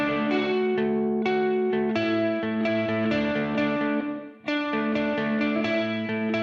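An electric guitar on a mixing channel with a reverb insert rings out loud, sustained chords blooming into a wash of echo, with a brief dip before the strumming resumes.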